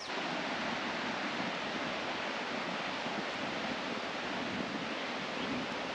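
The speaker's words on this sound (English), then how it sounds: "you can just hear the running water from the stream" Steady broadband rush of water from a stream beside a glamping campsite in North Carolina, continuous and even throughout, with no talking.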